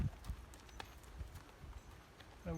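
Horse hooves clip-clopping across a riding arena with coloured poles set up for jumping, a steady run of soft thuds at moderate distance under faint background noise.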